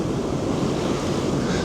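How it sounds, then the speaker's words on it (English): A small waterfall on the Lower French River makes a steady, close, broadband rush of falling water, with some wind buffeting the microphone and no talking. "nice little waterfall going on here."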